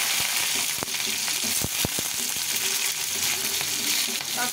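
Green chilies go into hot oil already crackling with nigella seeds, raising a loud, steady sizzle up close. A few sharp pops and clicks break through the frying, and no one speaks.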